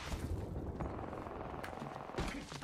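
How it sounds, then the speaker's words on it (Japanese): Rapid gunfire rattles in bursts during an online shooter match, with dense overlapping shots and a few heavier booms, fairly close and harsh, without voices over it. "もう銃声しかしません"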